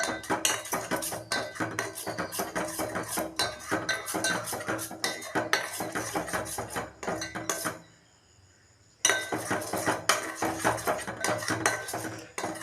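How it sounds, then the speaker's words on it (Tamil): Ragi porridge being stirred in a metal pot, a steady run of scraping and clinking spoon strokes with a brief pause near the end before the stirring resumes. "நல்லா மிக்ஸ் பண்ணி விட்டுக்கோங்க."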